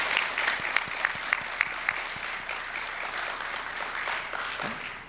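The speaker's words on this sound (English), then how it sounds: "Could we give them all a round of applause" A meeting audience gives a round of applause, a few sharp, distinct claps ringing out at first before blending into a moderate, even patter that continues to the end.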